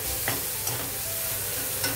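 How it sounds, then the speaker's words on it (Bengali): Aloo paratha potato filling frying in a pan while a spatula stirs it, with a soft steady sizzle and a few light scraping strokes, fairly quiet and with no talking. "এভাবে ভেজে নিলে এর যে কাঁচটা এটা চলে যায়, একটু ভাজা ভাজা খুশবু ভালোই আসে।"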